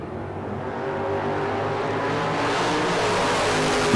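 Drag race cars stage and hold at the line at the K&N Spring Fling Million, their engines roaring loud and steady with a harsh mechanical buzz that builds slightly toward the end.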